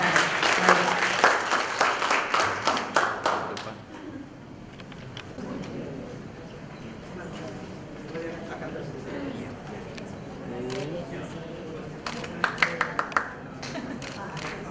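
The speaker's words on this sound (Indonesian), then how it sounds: "boleh tepuk tangannya sekali lagi kepada para pembicara kita" An audience claps for the speakers at a World Press Freedom Day 2017 event: a burst of applause that fades after a few seconds, followed by a crowd murmuring and a brief flurry of claps near the end.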